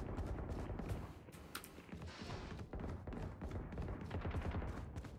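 Gunfire from the Valorant video game, a steady patter of rapid shots and clicks running through the whole stretch at moderate level, with no clear talk.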